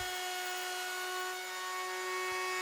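A router fitted with a 3/4 inch roundover bit runs steadily on wood, giving a loud continuous high whine with a constant pitch throughout and no talk.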